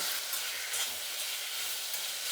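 Tomatoes sizzle steadily in a hot pan for a pesarattu chutney, a soft continuous hiss with faint stirring scrapes and no voices.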